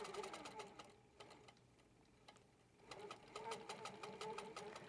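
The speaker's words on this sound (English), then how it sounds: "Now I'll stitch my fabric down again to the swag." An HQ Pro-Stitcher computer-guided quilting machine stitches fabric down in rapid, rhythmic needle bursts, pausing briefly near the middle before resuming at a steady close, moderately quiet pace.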